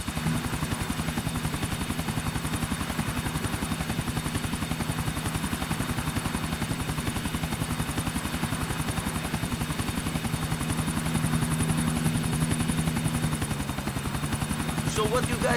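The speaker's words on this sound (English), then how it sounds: "let's get in the chopper. Take us over to Broker Bridge." Helicopter in Grand Theft Auto IV flying toward a bridge: a loud, steady rotor-and-engine drone with a constant low hum that holds unbroken for the whole stretch, shifting slightly near the end.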